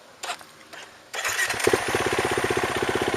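A dirt bike engine is started, a Husqvarna WR300 or KTM XC350 at an off-road park; after a few short clicks and a pause, the motor catches and settles into a loud, close, steady rapid putter.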